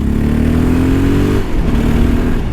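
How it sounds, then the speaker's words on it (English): A stock Honda XR650L motorcycle is being ridden, its single engine giving a loud, close, grunty low drone. The pitch rises as the bike pulls, then shifts and settles into a rougher tone partway through. "the bike is completely stock, but it's got that nice grunty noise to it"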